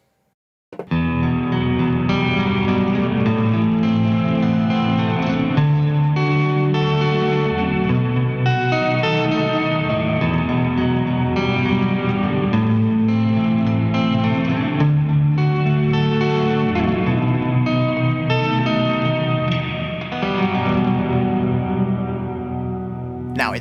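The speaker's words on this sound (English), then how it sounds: "I'd argue the fourth pedal you need on your list is some sort of reverb." Electric guitar played through a reverb pedal, sustained chords and notes ringing with a wide, washy tail, loud and continuous for about twenty seconds with no talking.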